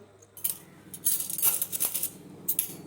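Metal forks, teaspoons and other spoons clink and rattle against each other in a home kitchen while being washed and set out to dry, with irregular bright jangles and small clatters close by.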